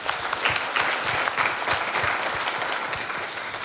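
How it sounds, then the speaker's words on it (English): An audience at an education technology summit applauds continuously, dense clapping from many hands filling the room at a steady level. "let's give him a big round of applause"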